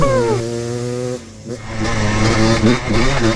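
A ported two-stroke Yamaha Blaster ATV engine revs up close and loud, its pitch sliding down, pausing briefly, then climbing again in a raspy, buzzing surge while shifting through gears.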